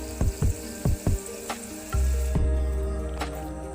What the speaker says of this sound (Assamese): এতিয়া মোৰ পিঠাখিনি এটা দুটাকৈ গোটেইখিনি পিঠাই ভাজি হৈ গ'ল